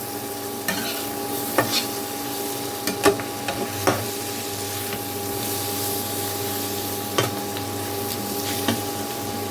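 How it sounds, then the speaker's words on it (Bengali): Spice masala and flat beans frying over low heat, a steady close sizzle with occasional sharp clinks and scrapes of a spatula against the pan, no voices. "একদম লো হিটে কিন্তু এই মশলাটাকে সিমের সাথে ভেজে নেব"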